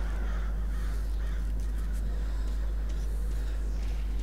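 Crows cawing in the video game Metro 2033 Redux, a steady noisy outdoor ambience with faint, repeated calls spread through the scene and no talk over it.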